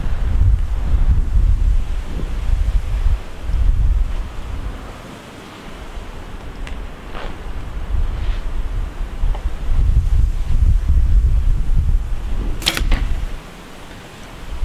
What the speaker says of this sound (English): because there's a bit of wind